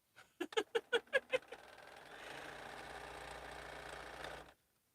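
A sewing machine stitches quilt pieces, starting with a few distinct thumping stitches before running into a steady mid-speed whir for about two seconds, then stopping abruptly.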